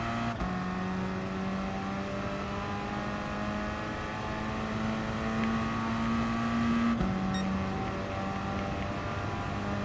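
Subaru WRX Gr.4 race car in Gran Turismo Sport: a steady engine note held at a high pitch, shifting partway through while the car heads into a hairpin. It plays alone at a constant, moderate level.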